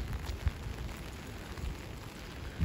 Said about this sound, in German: Und man hört den Regen, wie er auf meinen Schirm prasselt